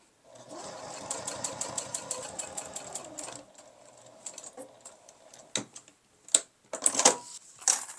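A sewing machine runs a long basting stitch, set to length 4 with no backstitch, through fabric for a sling. It gives a close, rapid rhythmic clatter for about three seconds, then scattered clicks and handling noises.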